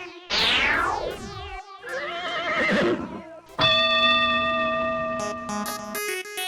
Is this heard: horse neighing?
yes